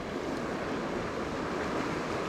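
Wind blows across the banks of a high springtime river during fly fishing, a dense steady rushing roar that blends with moving water and fills the whole stretch without a break.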